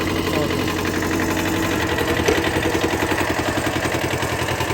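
Engine of a homemade 8x8 tank vehicle pulling away in first gear, a steady mid-pitched rumble with rhythmic knocking pulses that grow stronger as it moves, loud and close with no talk.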